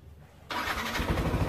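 A Yamaha NMAX scooter with a keyless system cranks and fires up abruptly after a quiet moment, then settles into a steady close engine rumble; no one speaks.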